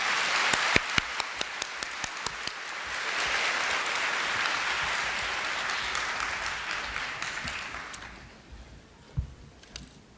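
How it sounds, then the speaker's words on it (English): Sustained audience applause fills a Korea University ISC opening ceremony hall, swelling from scattered claps into a dense wash of clapping for several seconds, then tapering off with a few final claps. "Please give them a round of applause."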